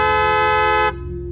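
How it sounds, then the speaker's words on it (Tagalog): A car horn blares in one long, loud, steady tone for almost a second, then cuts off, leaving a quieter hum behind it. "bumusina ka ng ilang beses para maglabasan ng mga tao dito sa baryo"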